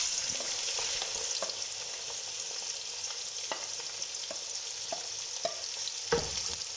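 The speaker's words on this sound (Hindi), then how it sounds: "प्याज को गोल्डन फ्राई होने तक फ्राई करेंगे।" Four finely chopped onions fry in ghee in a pan until golden, giving a steady, close hiss of sizzling with occasional soft stirring clicks and scrapes throughout, no voices.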